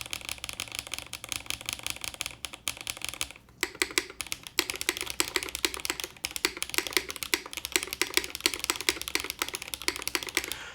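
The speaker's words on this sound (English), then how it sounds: "let's see how it actually sounds now without the solenoid on. Actually not bad. These are HMX Swift switches." Fast, steady typing on a mechanical keyboard fitted with HMX Swift switches, its solenoid turned off, gives close, crisp key clacks in continuous bursts with a brief pause partway through.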